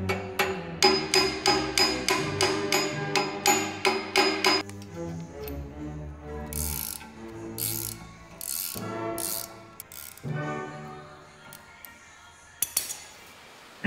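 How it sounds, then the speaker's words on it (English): Carpenter's hammer blows ring out in a quick regular series of about a dozen strikes, followed by scattered clanks and knocks. "Please don't judge. I know that's a carpenter's hammer."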